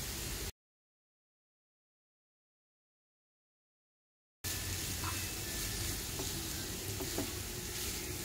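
Boiled shredded chicken, cooked with ginger, garlic and salt, sizzles in a hot pan while being stirred over a medium-low flame. A steady frying hiss carries on with faint scraping, with no talking.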